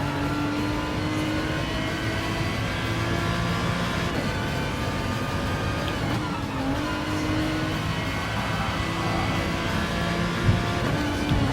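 Race cars engines drone steadily through a city circuit in Gran Turismo, loud and continuous with layered engine tones, gear shifts and brief tire squeal, no talking.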